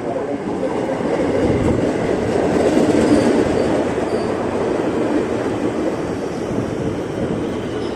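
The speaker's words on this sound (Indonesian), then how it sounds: "Nah, ini dia masuk ke Motren tujuan Jakarta Kota" A twelve-car KRL commuter train bound for Jakarta Kota pulls into Depok Baru station on the Bogor line, a steady loud rolling rumble with wheel noise sustained throughout.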